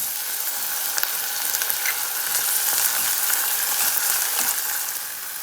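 Onion and tomato sautéing in a pan for bottle gourd sabzi: steady, loud sizzling and frying hiss throughout, with occasional stirring clicks and scrapes close by.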